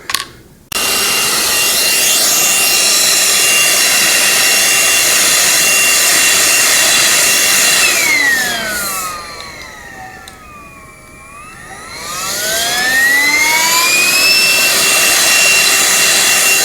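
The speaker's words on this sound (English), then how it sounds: "I have to make liberal use of my little hand vac" A small handheld vacuum runs steadily for most of the stretch, a loud whining hum used to clear debris while drilling and magnetizing Tau XV8 Crisis Suit miniatures, dipping in pitch partway through before revving back up.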